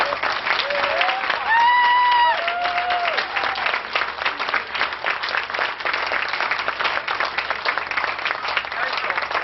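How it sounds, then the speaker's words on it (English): Many hands clap together for volunteers at a school awards event, a full, steady round of audience applause that continues throughout, with a brief whistle-like tone rising over it early on. "let's give them a round of applause for volunteering"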